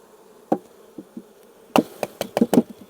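Honey bees crawling over a nearly empty frame from an opened hive give faint buzzing, with several sharp knocks and taps of the wooden frame in a quick cluster near the end.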